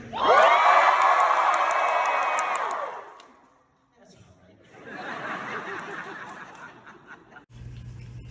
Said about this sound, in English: Just give me about 2 seconds of real cheering.